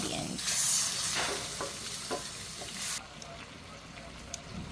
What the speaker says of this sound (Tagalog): And let's mix para mag-incorporate yung mga nilagay nating ingredients.